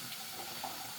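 Cold water runs steadily from a kitchen tap into a sink during pancit canton preparation, a continuous close hiss and splash with no talking.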